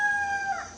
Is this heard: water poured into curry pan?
no